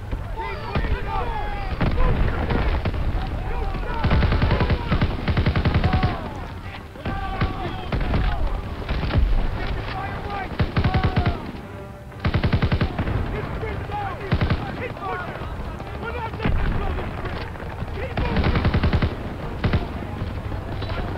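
Light machine gun fire in a Call of Duty: WWII battle near the Rhine, with sustained bursts of rapid shots, explosions and battle noise that keep on with few breaks, and a voice talking over the din.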